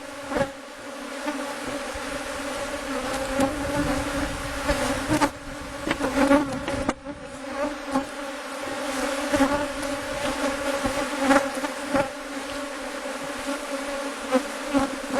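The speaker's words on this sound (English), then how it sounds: "You can see there's plenty of bees in there, plenty of activity." Honey bees drone steadily inside the bottom box of an open hive, a dense, continuous close-up hum with a few louder passes and faint knocks, no voices.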